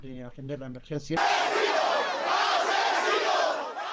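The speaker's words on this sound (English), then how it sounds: "A hostile crowd greeted them with cries of asesino, or killer in English" A hostile crowd of protesters in flood-battered Spain shouts at visiting officials, a voice calling out before the mass of angry yelling surges in, loud and sustained.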